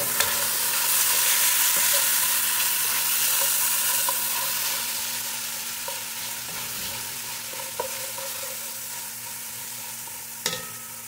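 Onions and chili sauté in a hot pan, giving a loud, continuous frying hiss throughout with a few brief clinks of a utensil and no voices.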